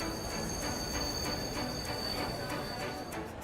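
A train running, with steady rumbling rail noise and faint rhythmic clatter continuous throughout at moderate level, no speech over it.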